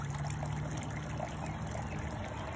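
Water trickles and flows steadily from an outdoor tap at a park, a constant close, even wash that runs through the whole moment with no talk over it.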